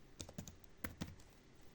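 Keys tapped on a computer keyboard while a password is entered at a login screen, a short burst of about five or six soft clicks in an irregular rhythm, close and quiet, with no talking.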